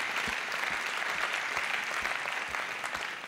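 An audience at the Pierres d'Or 2020 award ceremony applauds warmly, a sustained crowd clapping with a few distinct rhythmic claps standing out, moderately loud and continuous with no talk on top.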